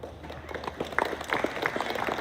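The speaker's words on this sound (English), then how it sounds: "Hey, let's hold applause, okay?" A crowd applauding at a varsity sports award program, scattered claps overlapping into a steady patter at moderate volume.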